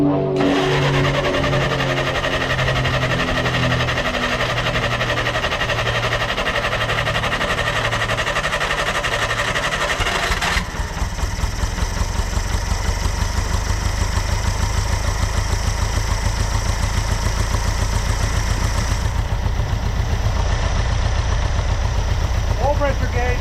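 The engine of a 1964 Clark Clipper forklift is started after fuel is pumped to the carburetor, first a cranking whir, then a steady, loud, rough mid-pitched idle with a knocking pulse that carries on to the end.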